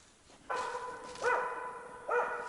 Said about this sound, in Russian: Хороший лай.